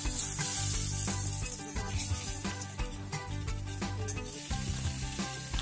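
Fish frying in a pan of oil, with a continuous close sizzle and faint spattering, steady throughout under quiet background music and no talk.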